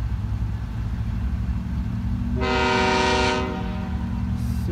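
A freight train led by a Norfolk Southern GE GEVO Tier 4 locomotive rumbles steadily close by, and its horn blares a sustained chord for about a second in the middle.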